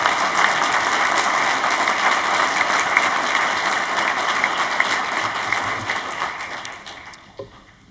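Sustained applause from a graduation ceremony audience greets a speaker coming to the stage, a dense, even wash of clapping that holds steady before tapering off at the end.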